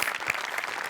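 A studio audience at a comedy show claps in a brief burst of dense, lively applause that fills the whole moment.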